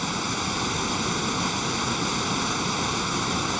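Nevada Fall in Yosemite pours down a sheer granite cliff in winter, giving a loud, unbroken roar of rushing water, dense and steady like white noise, with no voices.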